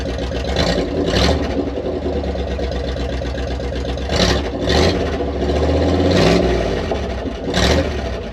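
An old Dodge Power Wagon truck engine with no exhaust fitted rumbles roughly and loudly, revving up several times, its raw, unmuffled roar swelling and falling.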